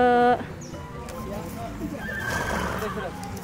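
A horse at an equestrian tournament gives a loud whinny at the start, then softer hoof sounds and background crowd noise and voices continue.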